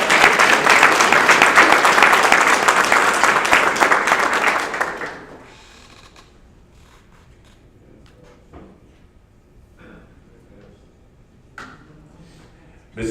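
A graduation crowd at Pitt County RRS applauds a graduate with dense, steady clapping for about five seconds, which then cuts off into quiet room noise with a few scattered knocks.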